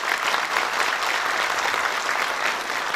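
A crowd applauds to welcome guests at a Kastamonu community evening, with loud, dense, continuous clapping filling the room throughout.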